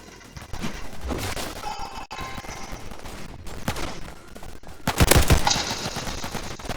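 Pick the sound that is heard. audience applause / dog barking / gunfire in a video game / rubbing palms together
gunfire in a video game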